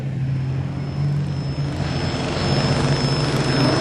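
Junior sedan race cars roar around Carina Speedway in a continuous loud engine drone with a steady low tone, swelling slightly as the pack passes, with no talk over it.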